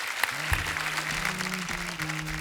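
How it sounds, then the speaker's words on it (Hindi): A studio audience on a Hindi comedy talk show applauds its guests, a steady wash of clapping that lasts throughout, with a sustained low tone running beneath. "आज हमारे मेहमानों के नाम एक बार जोरदार तालियां हो जाएं।"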